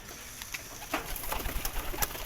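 Many racing pigeons cooing and fluttering together in a pigeon loft, a busy continuous murmur of birds with occasional sharper calls.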